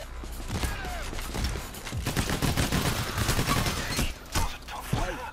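Rapid gunfire from the video game Payday: The Heist rattles in dense overlapping bursts, with automatic fire and single loud shots across the whole stretch, briefly dropping near the end.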